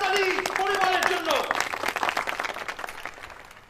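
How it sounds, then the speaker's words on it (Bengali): A crowd at a Bengali award presentation claps as a sustained voice or tone trails off, the applause continuing as a busy patter that gradually thins and fades. "সবাই জোরে হাততালি পরিমলের জন্য।"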